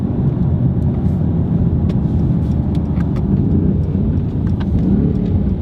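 BMW car engine pulling hard under acceleration, a steady loud low rumble with a deep burble filling the cabin throughout, no talk over it.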